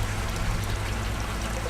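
Water pours steadily into a roughly 900-litre fish farming tank, a continuous close rushing and trickling with no break and no talk.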